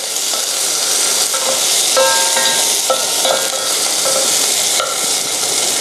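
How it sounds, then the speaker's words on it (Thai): A utensil scrapes repeatedly across the bottom of a pot of gravy sauce over a constant sizzle of frying food, close up. "ขูดก้นหม้อ ก่อนที่มันจะไหม้"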